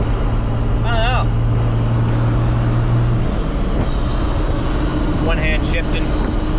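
A third-generation truck with a swapped 12-valve diesel engine idling and running steadily with a deep, constant rumble throughout, while someone talks over it and a brief whistling tone rises near the start and again near the end.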